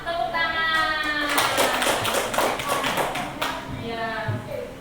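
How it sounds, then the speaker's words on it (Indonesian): Schoolchildren in a classroom clapping together in a quick burst of crisp hand claps lasting a couple of seconds, with children's voices and an adult voice around it. "Tepuk tangan."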